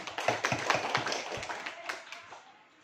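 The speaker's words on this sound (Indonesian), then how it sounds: "Tepuk tangan untuk kita semua." An audience at a school session at SMA Negeri 9 Bengkulu Selatan claps hands together, producing a dense burst of close, fairly loud claps that tapers off over a few seconds.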